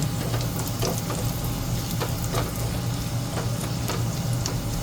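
Garlic sizzling and frying steadily in a pan as the base for fried rice made from leftover rice, a dense continuous crackle with occasional sharper pops, close and fairly loud, no talking.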